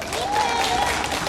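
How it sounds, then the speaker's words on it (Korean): A crowd applauds at an outdoor election campaign speech for a county head candidate, a brief steady patter of clapping with a faint tonal whine over it. "여러분 그 뒤에 계시는 우리 형님들 어르신 저에게 박수 한번 보내주십시오"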